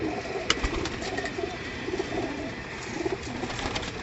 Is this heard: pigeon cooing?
yes